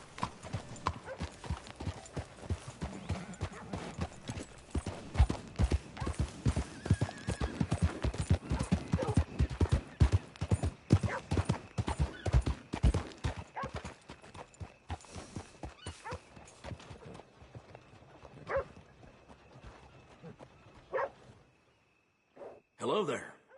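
In Red Dead Redemption 2, a horse's hooves clip-clop in a quick, steady rhythm along a town street, with an occasional whinny and background voices, before the hoofbeats thin out and stop.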